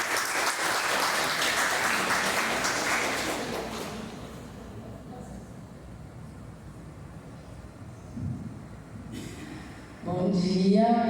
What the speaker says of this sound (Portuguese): Vamos recebê-las com uma salva de palmas